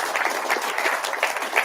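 An audience at a Stand Up for Idaho meeting applauds governors and legislators, a steady dense wash of many hands clapping throughout the short stretch, with no talk over it.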